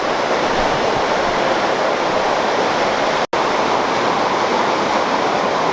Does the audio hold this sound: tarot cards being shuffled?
no